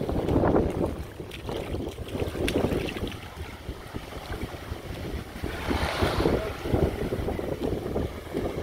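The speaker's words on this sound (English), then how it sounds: "it's gusting about 20 miles an hour, so it's pretty windy out here" Strong gusty wind of about 20 mph on a Florida Keys beach buffets the microphone, rising and falling in loud rumbling surges with a faint hiss of Atlantic surf underneath.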